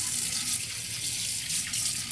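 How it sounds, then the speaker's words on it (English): A tap runs steadily into a sink for handwashing before a patient bed bath, giving a continuous close splashing hiss with no speech. "we must wash our hands"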